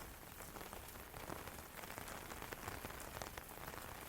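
Steady rain patters on a glamping tent, a dense, even hiss of countless close drops with no pauses, soft in level and alone.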